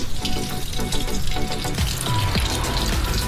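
Water sprays steadily and runs off the mud-caked fender of a Mitsubishi Triton pickup during washing, a continuous close hiss and splatter with no talking.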